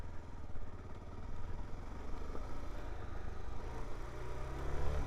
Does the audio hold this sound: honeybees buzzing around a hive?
no